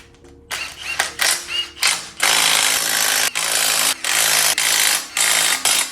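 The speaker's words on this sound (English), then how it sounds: "So we got our flex plate ready and all of our bolts are ready and our impact is ready." An impact wrench drives flex plate bolts on a neglected Chevrolet Silverado during a transmission install, loud close rattling bursts, a few short ones then longer sustained runs separated by brief pauses.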